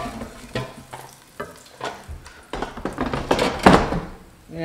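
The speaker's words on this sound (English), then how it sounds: "I'm gonna just go ahead and throw them in our sauce, which is thickened up nicely." Air-fried chicken wings are tossed and stirred through a thickened honey garlic sauce, giving wet sticky slaps and scraping clatters at an irregular rhythm that build louder toward the end, close up.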